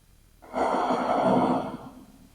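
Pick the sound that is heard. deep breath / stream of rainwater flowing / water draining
deep breath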